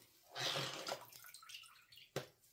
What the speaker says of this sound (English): wring the excess water out of these